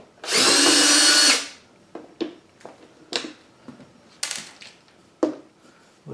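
A power drill whirs loudly in one sustained burst, backing screws out of the plastic shield on an Arcade1up Atari Legacy arcade cabinet, followed by a series of soft clicks and small handling knocks.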